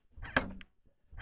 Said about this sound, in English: if you press the button, then the seats go down.